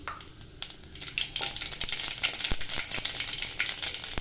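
Mustard seeds and urad dal sizzling and popping in hot sesame oil for an egg gravy, a close, bright frying hiss with scattered sharp crackles and rattling pops building over a few seconds.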